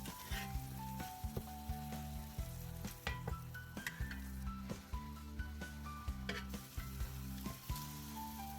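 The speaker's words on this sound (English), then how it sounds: "as the eggs cook, I stir them around so they don't burn on the bottom" Eggs sizzling steadily in a pan while a utensil stirs and scrapes them in regular, close strokes over a continuous frying hiss.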